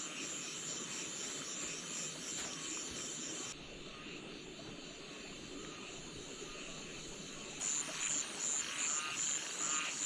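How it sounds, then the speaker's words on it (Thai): Frogs croak at night outside a tent, a dense chorus of rapid trilling calls in the distance, steady throughout with brighter bursts near the start and end. "นอนฟังเสียงกบเสียงเขียด"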